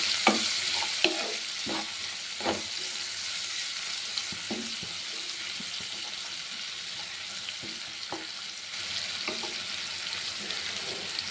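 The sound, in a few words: onions frying in oil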